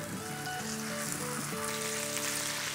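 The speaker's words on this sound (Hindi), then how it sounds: "इस वजह से मीडियम हाई करके उसको फ्राई करेंगे" Chicken fries in oil over medium-high heat for a chicken pulao, producing an even, moderately loud sizzle with faint steady hiss and a low background hum.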